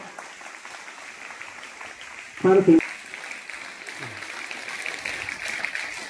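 A short, loud burst of clapping from an audience at a school felicitation ceremony rises out of a murmuring hall and fades after under half a second, with talk before and after.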